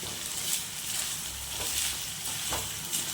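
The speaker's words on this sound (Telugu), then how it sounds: "ఇదిగోండి ఇలా వేగుతుంది" Chicken pickle pieces fry in hot oil with a steady, soft hiss, and a few faint stirring scrapes sound through it. No one speaks.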